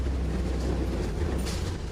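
An old yellow vehicle rumbles steadily with a low, grinding drone from its engine and gears, loud and close, continuous throughout without any talk.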